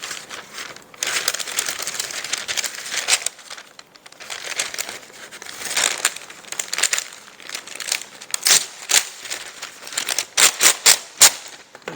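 Parchment paper handled and torn into lifting strips for a sandwich loaf pan, loud close crinkling and crumpling in bursts, with sharper tearing rips toward the end.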